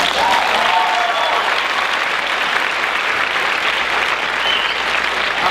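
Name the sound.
audience applause after a poem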